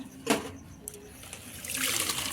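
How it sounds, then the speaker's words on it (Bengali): Water from pressure-cooked, boiled potatoes trickles and splashes as it is drained off. It is a soft, close pour that grows into a steadier hiss of running water toward the end. "এবার এটাকে জল ঝাড়িয়ে নেবে"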